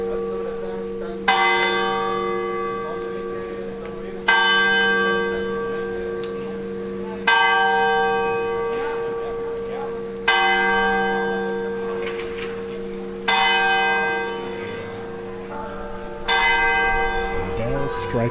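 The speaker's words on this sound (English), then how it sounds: "The bells strike noon" Church bells in Ronda, Spain strike noon, six loud ringing strokes spaced about three seconds apart, each ringing out and fading under a steady low hum.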